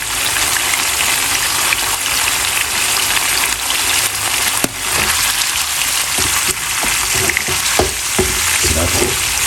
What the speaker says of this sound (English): Take time and fry it.